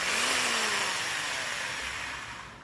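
A handheld electric drill whirs steadily near the microphone, its motor pitch dipping slightly and the sound fading gradually toward the end, with no talking.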